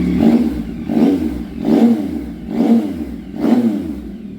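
A 2024 Yamaha XSR900 motorcycle with an Austin Racing exhaust revs repeatedly in a steady rhythm, about five throaty blips through a deep, rumbling exhaust, loud and close.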